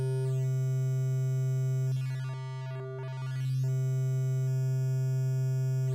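A steady synthesizer sine wave tone holds, then a filter sweep briefly scrambles it into a swirling, shifting texture before it returns to the plain hum.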